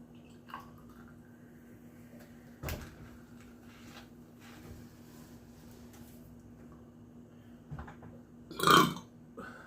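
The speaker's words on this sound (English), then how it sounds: "It's making me burp drinking all these." Someone burps after drinking sparkling water: one short, close belch near the end of an otherwise quiet stretch, with faint clicks and small handling noises before it.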